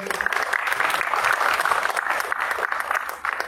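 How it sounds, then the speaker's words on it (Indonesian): Audience at a comedy showcase applauding, a close, dense and steady burst of clapping that fades slightly near the end. "Boleh minta tepuk tangan dulu."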